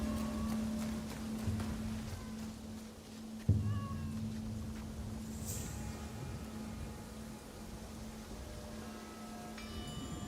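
A cat meowing in the video game Assassin's Creed Shadows, several short mewing calls spread over a steady low game-world hum, with a soft thump partway through and no talk.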